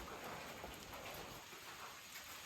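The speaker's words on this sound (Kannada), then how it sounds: "ಹೊರಗಡೆ ಫುಲ್ ಮಳೆ ಹೋಯ್ತಾ ಇದೆ" Heavy rain pours down outdoors in a Malenadu village, a steady, dense hiss of broadband noise that holds at an even level from start to finish with no voices.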